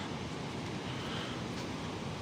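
Sea waves wash onto Nandgaon beach on the Konkan coast, where bungalows line the shore, making a steady, fairly soft broadband roar of surf with no voices.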